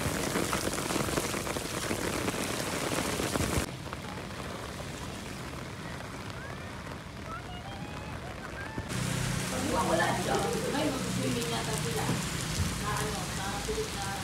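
Heavy rain pours down in Boracay, a dense, constant hiss of drops hitting surfaces, close and loud, with voices now and then.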